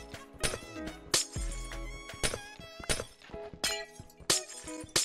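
Glass blocks in Minecraft break one after another under mining, giving a string of sharp crashing shatters and clinks at a quick, uneven rhythm, loud and close over steady game background sounds.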